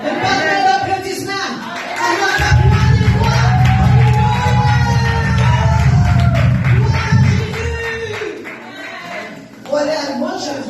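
A church congregation applauding and cheering during a testimony service, a burst of lively clapping mixed with shouts and voices, while a low rumbling or music swells underneath for several seconds before fading back to talking.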